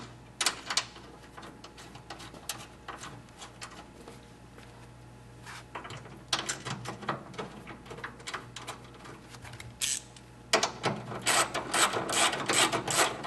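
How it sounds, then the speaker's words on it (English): A ratchet wrench tightening the shock bolts on a Ford Mustang during a coil spring install, heard as bursts of quick clicking in several runs with a steady low hum beneath and louder, denser ratcheting toward the end. "Get them all tightened down."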